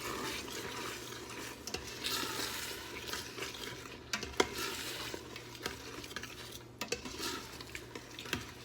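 Beef bolognese being stirred in an Instant Pot, a spoon scraping and clinking against the metal pot in irregular strokes, with soft bubbling and sizzle beneath, fairly quiet and close, no voices.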